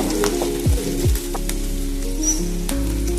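Onions and green chilies fry in a pan for a capsicum masala curry, giving a steady close sizzle with a few stirring scrapes and a low background hum, no voices.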